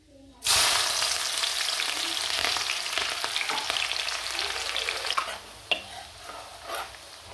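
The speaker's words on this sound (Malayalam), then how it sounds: "അതൊക്കെ പൊട്ടിങ്ങനെ വരുമ്പോഴത്തേക്കും ഇഞ്ചി വെളുത്തുള്ളി പച്ചമുളക് ഇട്ട് കൊടുക്കണം" Ginger, garlic and green chili drop into hot oil with popping mustard seeds, setting off a sudden loud sizzle that keeps up with stirring scrapes and a couple of sharp clatters near the end.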